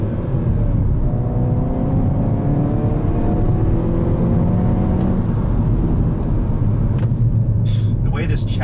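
A 2021 Hyundai Veloster N with DCT gearbox, its exhaust note a loud, steady droning rumble with rising engine tones under acceleration, heard from inside the car alongside road noise and a faint voice.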